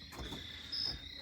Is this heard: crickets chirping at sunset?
yes